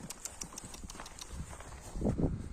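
A three-year-old horse of a large breed steps on firm ground, giving a quiet, uneven run of hoof clops close by, with a few heavier thuds near the end.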